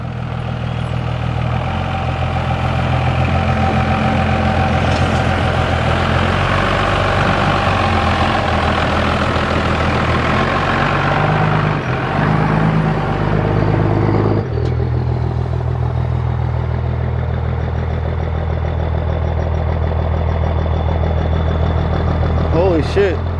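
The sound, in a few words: 1950 Dodge Coronet engine running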